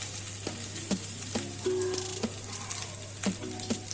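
Finely chopped ginger sizzling in hot oil in a kadai, a steady dense frying hiss with a low hum beneath and a few soft scraping stirs, close and continuous with no talking.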